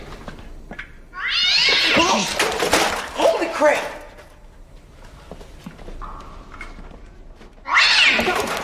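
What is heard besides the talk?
cat yowling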